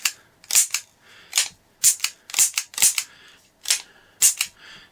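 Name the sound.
Smith & Wesson Model 610 10mm revolver shot in single action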